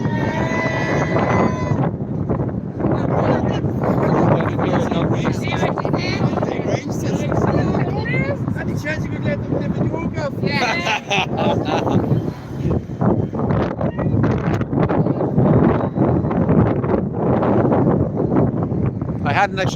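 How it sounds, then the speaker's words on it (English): Gusty cold wind roars against the microphone without letup at an outdoor protest in Ballymun while a person talks over it. "It is a windy, I know you can hear the wind"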